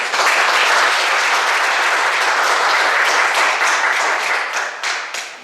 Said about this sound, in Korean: 박수로 하겠습니다